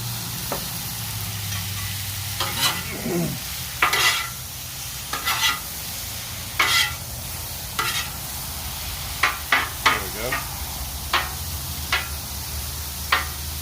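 Pork and broccoli stir-frying in hot oil in a pan give a steady, close sizzle, broken by repeated sharp scrapes and clatters of a utensil stirring and spreading the pieces.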